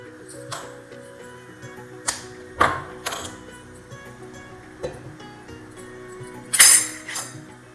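A kitchen gas stove is switched on to heat a litre of milk for sweet curd. Several sharp, separate clicks and knocks stand out over a quiet hum, with no speech.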